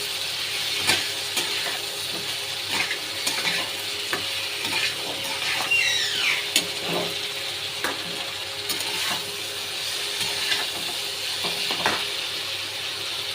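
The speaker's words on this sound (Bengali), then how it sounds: "পটলগুলো দিয়ে দেবো, পটল আর কাঁচা লঙ্কা একটু ভালো করে নেড়ে নেব" Pointed gourd pieces and green chillies fry in a pan while being stirred, giving a soft continuous sizzle with repeated scraping clicks of the spatula, close and moderately loud, with no talk.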